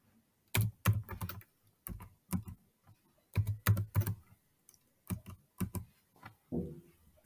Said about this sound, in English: Using the arrow keys to navigate.